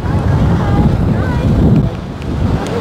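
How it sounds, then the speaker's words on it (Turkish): Strong wind buffets the microphone outdoors in Vienna, a loud, continuous low roar with gusts that dip briefly near the end. "Allah, rüzgara bak."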